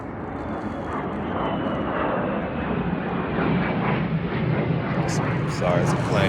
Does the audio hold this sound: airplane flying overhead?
yes